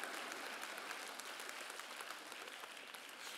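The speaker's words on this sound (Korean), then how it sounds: "이렇게 박수를 쳐야 돼." A church congregation claps steadily throughout, a dense, continuous wash of hands filling a large worship hall with no voices rising above it.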